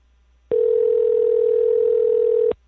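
A steady electronic telephone tone sounds continuously for about two seconds, loud and close, then cuts off abruptly, with no voices.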